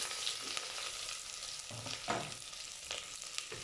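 Onion and curry leaves fry in oil with popped mustard seeds for sambar, a faint steady sizzle with soft stirring scrapes and light crackles throughout.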